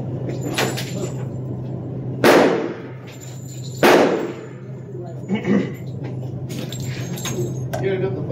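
Gunshots fired at an indoor shooting range give two loud, sharp bangs a couple of seconds apart, followed by a softer report, while people talk nearby.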